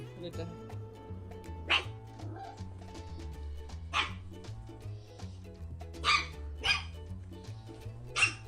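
A little dog barks in several short, sharp bursts spaced a couple of seconds apart, with quiet talking going on in the background throughout.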